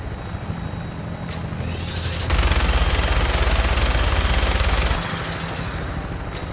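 Minigun fire from a Vertibird in Fallout 4, a continuous loud roaring burst lasting a few seconds over the steady drone of rotor and engine noise, then cutting off back to the hovering hum.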